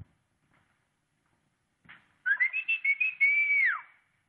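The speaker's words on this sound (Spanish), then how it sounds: "Bonito silbido, ¿verdad?" A person whistles in a quiet film scene: after a faint stir, a single clear, sustained whistled tune plays alone for about a second and a half, wavering slightly and ending with a falling glide.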